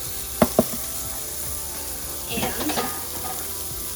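Half an onion and shiitake mushrooms sizzle steadily in a hot pan, a constant close frying hiss with two sharp utensil clacks early on and some stirring scrapes later, a brief spoken word over it.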